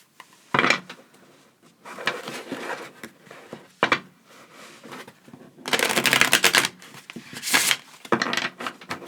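Tarot cards are shuffled by hand at close range in irregular bursts of papery riffling and slapping, with quiet gaps between.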